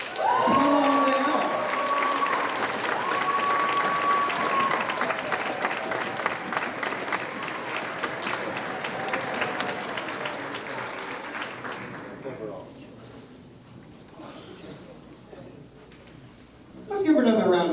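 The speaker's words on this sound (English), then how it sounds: "give her another round of applause." Applause and cheering from an audience as a family is called up as winner of the most unique chili in a chili contest, dense and steady for about twelve seconds, then thinning, with voices talking underneath and a brief burst near the end.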